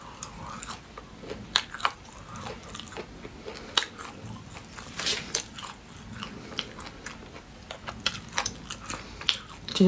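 Close, quiet chewing of spicy chicken gizzard in a mukbang, with steady crunchy bites and wet mastication sounds throughout.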